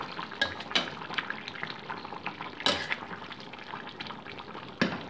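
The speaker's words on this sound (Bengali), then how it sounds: "আলুগুলোকে জাস্ট একটু স্ম্যাশ করে নিচ্ছি ঝোলের সাথে" Boiled potatoes get mashed into a cauliflower and prawn curry, with wet squelching, bubbling and soft scrapes of a utensil against the pot, close and moderately quiet, with a few sharper knocks.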